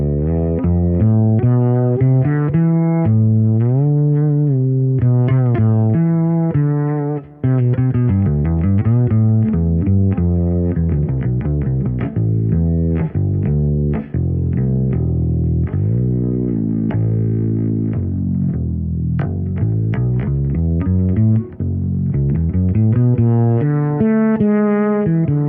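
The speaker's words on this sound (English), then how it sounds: "Let me try another preset that I made here with a little bit of delay and reverb, which is really nice for kind of soloistic playing." Infinity Ghost six-string fretless bass by MG Bass Guitars played soloistically through a delay and reverb preset: a continuous run of sliding melodic notes with sustained, smeared tails, loud and close with no talking.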